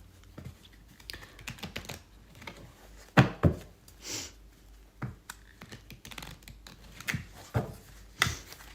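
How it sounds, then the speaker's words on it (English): Tarot cards being shuffled by hand, a run of soft irregular riffling clicks and taps, close and fairly quiet, with a few sharper snaps. "I wish I could shuffle these cards a bit more better."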